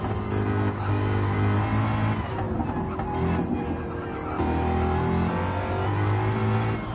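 A race car accelerating in a racing game, its engine note close and loud, rising and falling steadily through the gears with no break.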